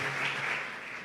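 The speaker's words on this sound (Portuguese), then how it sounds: "dá um aplauso bem forte a Jesus" A brief burst of church congregation applause for Jesus, a dense wash of clapping at moderate distance that fades slightly over its short length.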